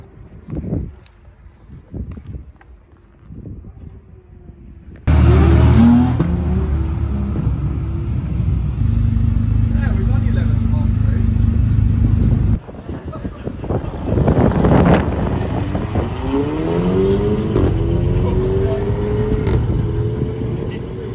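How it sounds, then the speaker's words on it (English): An Alfa Romeo GT 1.9 JTDM 150 diesel coupe is driven while the engine and exhaust drone. Quiet at first, the sound jumps loud at about five seconds and stays heavy with wind rush, briefly dipping midway, with some talk. "What's this exhaust?"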